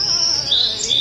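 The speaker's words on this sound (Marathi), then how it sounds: "तिथं ऐकू येणाऱ्या पक्ष्यांच्या आवाजामुळे एक वेगळीच ऊर्जा जाणवते" Birds in the forest around a Sahyadri hilltop Shiva temple chirp in a high, sustained trill, close and clear, with no talk over the brief burst.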